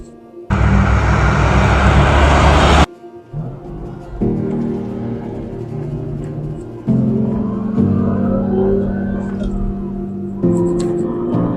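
A burst of broadband noise comes first, then a 1999 Ferrari Maranello engine idles close by, stepping up in revs a couple of times, each rise holding steady.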